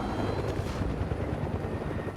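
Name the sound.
helicopter flying in the video game Fortnite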